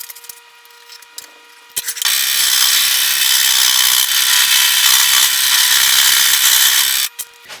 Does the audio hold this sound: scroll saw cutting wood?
yes